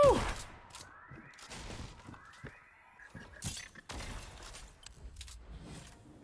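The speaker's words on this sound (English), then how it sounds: "Missed so much shots." Fortnite shotgun fire comes as scattered sharp blasts with quieter gaps between, mixed with game effects and sliding tones, loudest at the very start.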